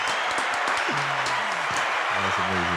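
Audience giving a round of applause, steady clapping with a voice talking over it partway through.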